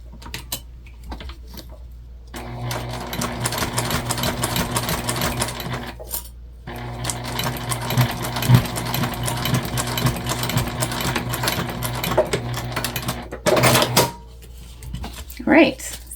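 A sewing machine stitches a mini backpack in long steady runs of rapid mechanical chatter, pausing briefly between runs, with a few clicks and handling noises near the end.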